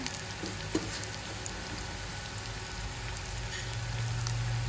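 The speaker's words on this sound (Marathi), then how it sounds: "हे आहे लसूण जिरे टाकायचे" Garlic and cumin sizzling in hot oil, a dense, even crackling hiss that holds steady and swells slightly toward the end, close and alone with no talk.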